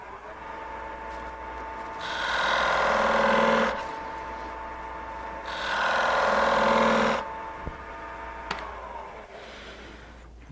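A skew chisel cuts a line into spinning wood on a lathe, heard as two sustained, loud scraping passes of about two seconds each, set apart by a pause, over a steady motor hum and a few light knocks afterward, with no talking.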